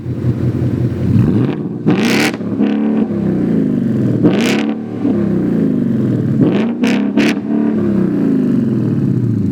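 A white Ford Mustang revs hard outdoors in the canyons, its engine rumbling steadily, with several sharp throttle blips and crackling exhaust pops, loud and close, and no voices.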